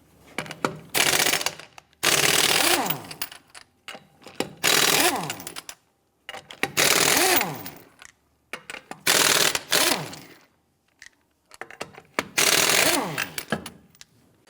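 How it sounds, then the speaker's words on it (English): Impact wrench bursts loosening 21mm lug nuts on the rear wheel of a 1992-1996 Toyota Camry, about six loud whirring rattles of one to two seconds each, separated by brief pauses, close up with no talking. "loosen and remove the lug nuts"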